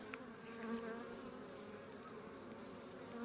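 Bees hum around a hive in a soft, continuous drone, with several buzzing tones layered together and faint rises as individual insects pass nearby. No voices.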